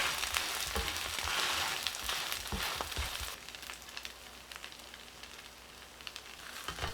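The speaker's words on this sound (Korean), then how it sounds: "뒤집고 꾹꾹 누르면서 구워주세요." A seafood green onion pancake topped with egg fries in a pan, being flipped and pressed down. It gives a close, steady crackling sizzle with a few soft clicks and scrapes.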